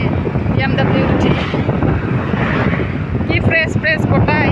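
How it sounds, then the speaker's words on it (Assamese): Steady rushing wind buffets the microphone from inside a moving BMW on a road past a school, a broad continuous roar with someone talking faintly over it. "কি ফ্ৰেছ বতাহ আহি থাকে"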